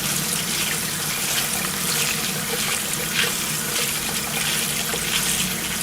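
Water runs steadily from a tap while wintergreen leaves are rinsed, a continuous close splashing hiss with small irregular gurgles and no talk.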